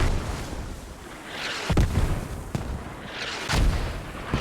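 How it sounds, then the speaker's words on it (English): Mortar shells exploding in the military shooter Squad, two distinct heavy booms about two seconds apart with rumbling tails, fairly near and loud over steady battlefield ambience, no talk. "Mortars are dropping around the OK, but they're just short."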